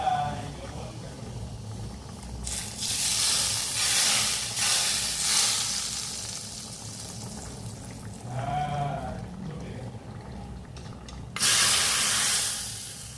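Cumin tempering poured over dalma, the lentil and vegetable dal offered as Lord Jagannath's prasad, sets off loud bursts of hissing sizzle that rise, fade and flare again over a low background murmur.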